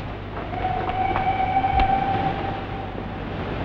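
A train runs along a railway line with a steady rumbling roar, a sustained squeal of wheels on rails rising over it and a single sharp knock midway, close and fairly loud, with no voices.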